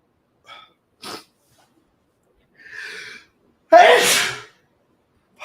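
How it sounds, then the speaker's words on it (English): A few quiet intakes of breath build up to one loud, explosive sneeze close to the microphone. "There goes my sneezing."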